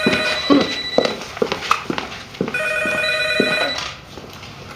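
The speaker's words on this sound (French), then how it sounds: "Là, j'imagine que tu te dérangeras pas pour aller répondre au téléphone." An indoor telephone rings loudly and close by in repeated electronic trills, with a short pause between bursts, heard alone without talking.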